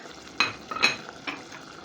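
Coriander stirred into a finished vegetable stew: a few distinct spoon scrapes and clinks against the pot over a soft background sizzle, close and fairly quiet, without speech.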